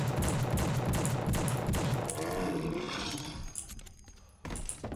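Gunshots in The Suffering ring out in rapid repeated bursts, loud and close at first, then thinning and fading out before a final sharp sound near the end.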